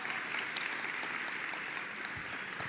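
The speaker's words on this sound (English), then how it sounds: "Round of applause," A round of applause for a judging committee at a live awards event, with steady, dense clapping from a large audience heard throughout without pause.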